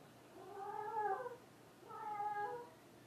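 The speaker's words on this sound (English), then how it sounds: "I think one of my cats is in here." A cat that has not been spayed howls in two drawn-out, wavering yowls with a short gap between them, fairly faint and indoors.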